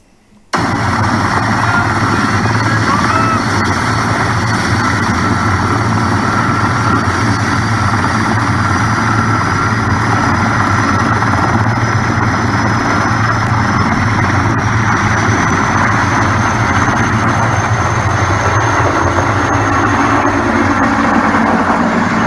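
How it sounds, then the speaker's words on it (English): A firefighting aircraft passing overhead, a loud continuous engine drone with steady low rumble and a faint high whine that slowly shifts in pitch, lasting throughout with no talking. "There's another firefighting aircraft."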